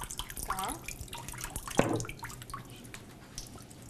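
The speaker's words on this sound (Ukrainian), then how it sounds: "Чекаємо, доки збіжить вода, знімаємо верхню рамку." Water drips and trickles off a paper-making mould frame as a sheet of handmade paper drains, in a castle workshop demonstration; a faint splashy trickle with a brief louder pour midway.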